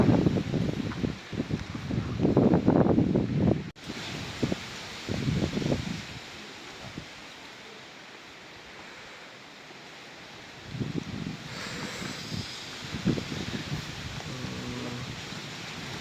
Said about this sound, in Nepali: हावा त कति चलेको भन्ने कुरो छ